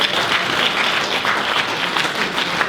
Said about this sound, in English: Clap, clap for me.